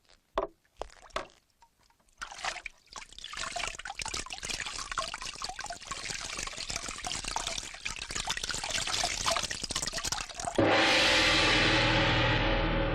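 Water is poured, a run of trickling and splashing that swells and thickens toward the end into a steady, louder gush, with scattered drips and knocks at the start.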